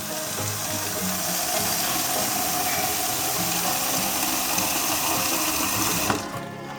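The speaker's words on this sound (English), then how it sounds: "Adding water." Water pouring steadily into a pot of beans for a beans and vegetable porridge, a continuous splashing rush that cuts off abruptly near the end.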